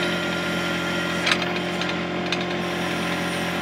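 Backhoe engine running at wide open throttle, a steady, loud mechanical drone with a constant hum and a couple of brief clanks partway through, no talking over it.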